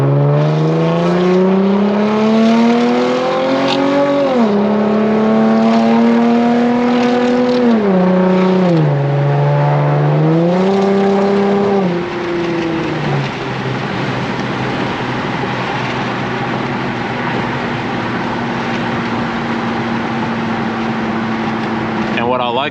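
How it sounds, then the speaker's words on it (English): A Lexus IS 250 engine climbing through revs and dropping as the automatic shifts gears several times, a clear rising-and-falling drone, loud and close inside the car, settling into a steady hum while someone talks over it. "And with the power shifting on, it just shifts when I want it to shift without me having to use the paddles."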